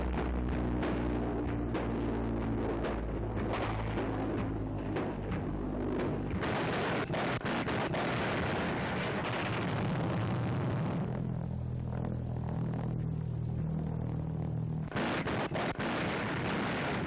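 Anti-aircraft guns fire at flying bombs in a June 1944 wartime newsreel, a dense, continuous roar of booming blasts and rumbling bursts, loud and sustained across the whole stretch without any voice.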